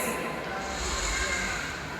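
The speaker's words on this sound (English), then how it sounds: "That is the sound of rattling quills" An Indian crested porcupine rattles its quills, giving a dry, hissing shiver of noise that runs steadily throughout at moderate loudness.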